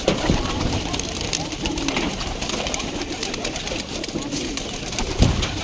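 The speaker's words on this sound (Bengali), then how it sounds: "এটা তো পাকিস্তানি কবুতর মনে হয়, না এই বাংলাদেশি অরিজিনাল গিরিবাজ কবুতর" Bangladeshi original Giribaz pigeons coo softly in a loft among a mixed flock, low repeated calls under a continuous murmur of wings and shuffling, with people talking nearby.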